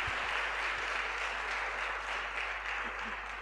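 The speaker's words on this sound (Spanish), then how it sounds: "Un gran aplauso para Valentina." Audience applause at the close of a talk on HIV and STI prevention, a steady, even wash of many hands clapping, somewhat distant, filling the room without speech.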